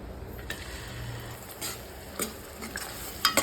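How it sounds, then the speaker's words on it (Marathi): Ground masala paste roasting in hot oil in a kadai, a soft steady sizzle with occasional spoon scrapes and light clinks, close and fairly quiet, no voices. "चांगलं तेल सोडेपर्यंत मसाल्याला भाजून घ्यायचं आहे."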